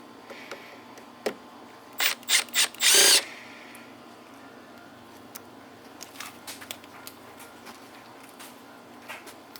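An impact driver removes stubborn screws from a Honda ATC70 three-wheeler trike during a clutch repair: a few short, loud hammering bursts close by, then a longer one, followed by quiet workshop clicks and handling.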